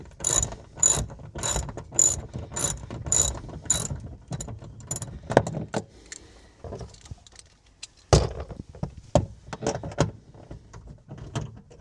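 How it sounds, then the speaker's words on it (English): A ratchet turning a 10mm socket clicks in quick rhythmic bursts, then pauses and resumes with more clicking, as a bolt is removed from a 6th-gen vehicle's interior rear side window panel. "You will use the 10mm socket for this one as well."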